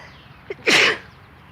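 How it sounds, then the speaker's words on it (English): A single loud sneeze, preceded by a quick sharp inhale, bursts out close by in a quiet garden. "I'm gonna sneeze."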